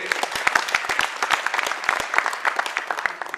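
Audience round of applause at a Pan-IIT conference event, dense overlapping claps sustained steadily throughout, moderately loud and fairly close, with no talking over it.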